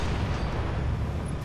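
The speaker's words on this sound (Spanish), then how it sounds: "Chígate la pinche torreta, puro disparo, Cayu" Dense, continuous rapid gunfire from a video game turret with booming low rumble, loud and sustained throughout, like heavy automatic weapon fire.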